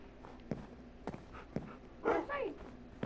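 In Minecraft on PlayStation 4, a dog gives a few short, soft barks and yips at regular intervals, with a brief stretch of talk in the middle.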